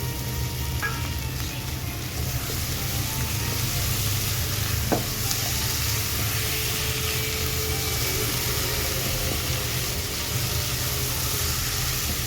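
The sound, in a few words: spice masala frying in a pan for crab curry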